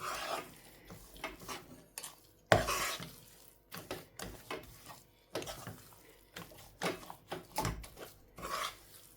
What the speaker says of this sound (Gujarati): હવે સખત એને ફેરવવાનું છે.